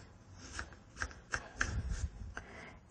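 A knife cutting potatoes into thick fries on a board, with several dull thuds and scraping cuts at irregular intervals, close and moderately quiet, with no talking.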